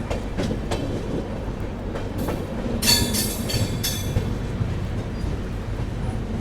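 A Vande Bharat train runs on rails near Dahod railway station, giving a steady, loud rumble with rhythmic wheel clicks and brief brighter rattles partway through.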